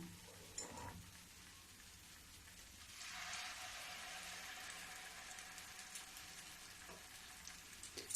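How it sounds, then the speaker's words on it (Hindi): Malpua batter fries in oil in a kadhai with a soft, continuous sizzle that grows a little fuller partway through, heard alone and fairly faint. "देखो ये पुआ एक कढ़ी में चली गई है अलग के। अब मैं दूसरा पुआ डालती हूँ।"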